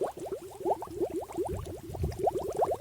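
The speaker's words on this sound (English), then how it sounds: "I'm just going to let it fill up underwater" A sample bottle fills underwater in a stream or pond, releasing a steady, rapid train of gurgling bubble glugs. The glugs are close and moderately loud, with low sloshing swells and no talk.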